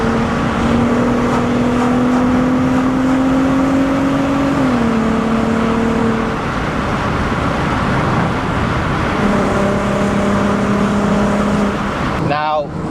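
A VW Golf Mk5 R32 engine drones loudly from inside the car as it drives through a tunnel with the windows down. The steady, booming note shifts pitch midway, and there is a brief clatter at the end.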